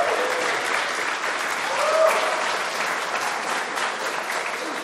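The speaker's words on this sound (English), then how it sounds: "round of applause" Steady audience applause at a talk on environment art for the game Uncharted 4: loud, dense clapping that holds at an even level for about five seconds.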